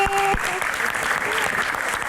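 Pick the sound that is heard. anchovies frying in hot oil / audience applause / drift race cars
audience applause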